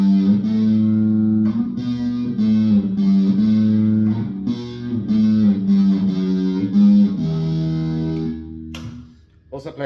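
Distorted electric guitar riff with sustained chords and strummed changes played loud and steady, ending with a brief decay and a scrape near the close.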